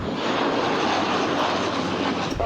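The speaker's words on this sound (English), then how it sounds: "two pilots in Cooper planes dropped water on wildfire hotspots at Johnson Ranch late Thursday afternoon" Firefighting planes working over a wildfire at a ranch in Van Zandt County, a steady, loud broadband aircraft engine roar that fills the whole stretch with little change and no talk.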